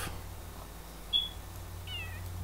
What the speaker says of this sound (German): Wo ist denn die Katze?